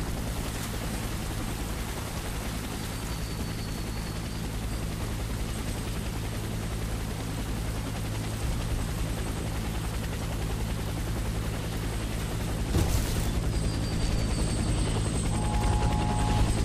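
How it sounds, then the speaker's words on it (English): An extraction helicopter in the shooter game Warface hovers close, its rotor thrum steady and loud throughout, with a brief sharp burst near the end. "Helicopter for extraction."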